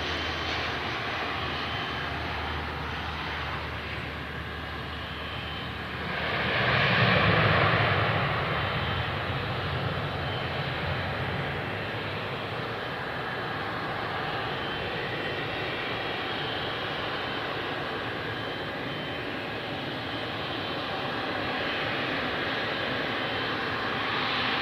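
An Emirates jet airliner departs Perth Airport on runway 03, heard as a steady, loud roar of jet engines throughout, swelling briefly as it passes nearest before settling into a sustained rumble.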